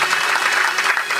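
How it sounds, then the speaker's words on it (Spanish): A church congregation clapping their hands together, a dense, continuous burst of many palms close by and fairly loud, with no voices over it. "¿Cuántos dan palmas a Dios por eso, hermano?"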